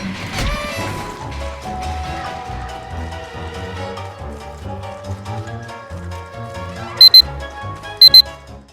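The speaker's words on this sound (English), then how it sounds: "You heard the alarm go off." An alarm sounds in the game Don't Starve: Reign of Giants as two short, loud, bright bursts near the end, heard over steady game music.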